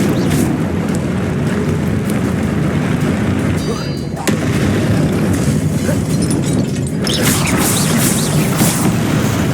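Confringo fire spell blasts in the video game Hogwarts Legacy, a dense, loud roar of booming explosions and crackle running throughout with no clear gaps.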